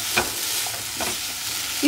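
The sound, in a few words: paneer strips stirred and sizzling in a pan for paneer jalfrezi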